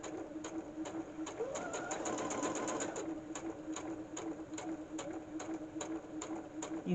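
A domestic sewing machine stitches along a marked line, a rapid even run of needle clicks over a steady motor hum, close and moderately loud, briefly speeding up partway through.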